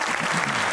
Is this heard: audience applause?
yes